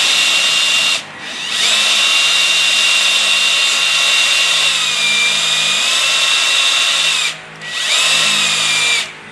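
A power sander grinds dirt off cast silver rounds in long, loud, steady bursts of high whine, with two short pauses between passes.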